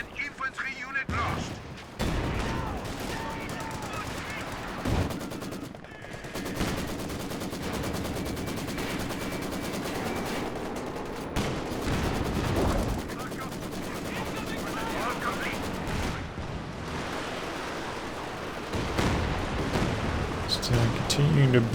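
Katyusha rocket artillery barrage in Company of Heroes 2, a continuous roar of overlapping launches and explosions with heavy booms and sustained rumble under a caster talking throughout.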